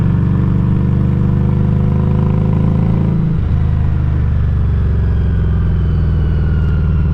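A custom Harley-Davidson motorcycle engine heard up close while riding, a loud, steady low rumble that holds its pitch, with a brief shift in tone midway through, no talking over it.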